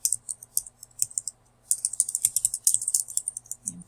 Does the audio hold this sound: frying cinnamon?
no